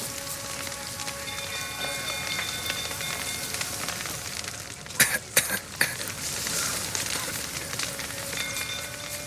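Steady rain in The Witcher 3 video game hisses throughout, with a few short, sharp bursts of noise breaking in around the middle.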